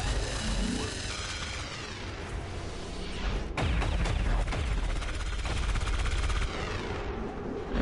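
Suppressive gunfire in XCOM 2, a sustained rattle of shots with a sharp crack partway through, dense and steady at moderate volume.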